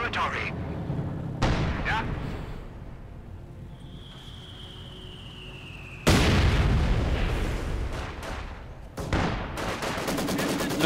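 Game battle sounds from a Company of Heroes 2 match: a rifle grenade blast and rolling gunfire in dense, continuous layers, with two loud bursts and a whistling shell passing overhead midway. Commentary runs over the action throughout.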